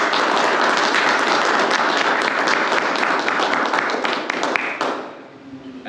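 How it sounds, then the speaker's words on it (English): Sustained applause from the audience at Master Sergeant Doyle's retirement ceremony, dense and steady, then tapering off and fading near the end. "Let's have a round of applause for Master Sergeant Doyle"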